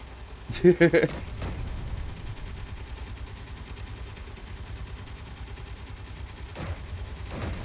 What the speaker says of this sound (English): my ship is shooting itself, so that's always fun